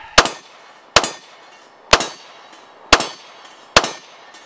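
Five gunshots strike a steel hostage target, each a sharp metallic clang with a short ring, spaced about a second apart at a steady rhythm with no talking.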